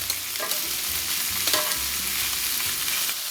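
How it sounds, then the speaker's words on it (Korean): Beef cubes for beef bourguignon searing in a smoking-hot, oiled pot on high heat, a steady loud sizzle and crackle with occasional sharper spits and stirring clatter throughout, no voices. "고기를 냄비에 뭉치지 않도록 잘 깔아주고 겉면을 노릇하게 시어링 할 거예요."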